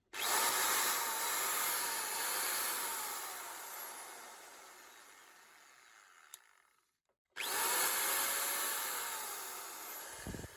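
A DeWalt D21570 core drill runs in drill mode, a loud motor whine that winds down, cuts out briefly, then starts again and runs at full speed.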